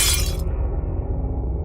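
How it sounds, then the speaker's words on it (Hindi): Glass shatters in a single loud crash at the start, a bright burst of breaking shards that cuts off quickly and leaves a low rumbling background, set in a spooky graveyard story scene. "दरवाजे के पास दोनों ने एक शीशा टूटते हुए देखा।"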